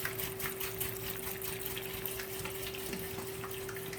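Apple cider vinegar pouring for pickling, a steady faint liquid stream running continuously with a low constant hum beneath.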